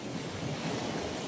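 Sea waves wash onto a beach at Sabangan on an island camping trip, a steady, loud broadband surf roar with wind buffeting the microphone and no voices.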